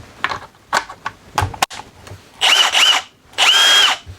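Milwaukee M18 mid-torque 1/2-inch impact wrench (2962) with a 3 Ah battery, trigger pressed in two sustained bursts of whirring drive after a few short clicks and knocks, loud and close with no talk.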